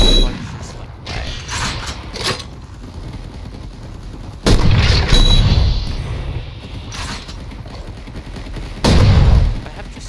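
Sniper rifle fire in the video game Tetra Project: three heavy booming shots spaced several seconds apart, each with a deep thump and fading tail, over quieter game ambience and scattered clicks.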